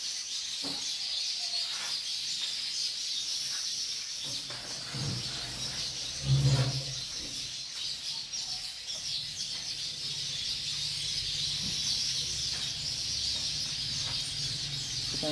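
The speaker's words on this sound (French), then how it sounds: "On laisse un peu les oiseaux parler." Birds calling outdoors, several faint chirps and calls over a steady high hiss of background ambience, with one louder low burst midway and no voices.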